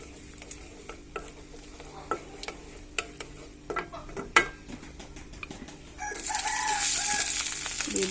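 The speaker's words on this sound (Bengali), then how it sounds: "এভাবে মিলিয়ে নিচ্ছি ভালোভাবে, তেলের সাথে মিশিয়ে নিতে হবে" Garlic and coriander leaves are stirred into oil in a pan. Light scattered taps and scrapes come first, then a fuller, louder sizzle takes over for the last couple of seconds.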